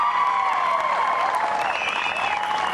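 A crowd applauds continuously at a ribbon-cutting for a Miracle Field, steady clapping held at a close, even level throughout.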